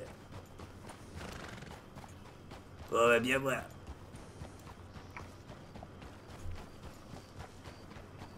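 Horse hooves clip-clop steadily in Red Dead Redemption 2, with a loud whinny bursting out midway; people talk over the hoofbeats.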